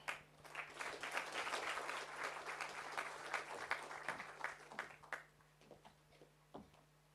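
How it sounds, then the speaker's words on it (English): Applause from a conference audience at the opening of a G20 technical meeting in George, loud at first and then thinning into scattered claps that fade out. "I think your hands can clap better than that."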